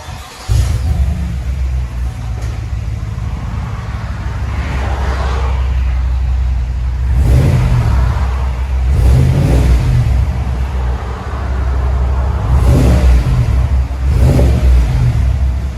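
A GMC/Chevy 6.2L V8 with an aftermarket exhaust muffler idles with a deep, steady rumble and is revved several times, each rise swelling then settling back, close and loud throughout.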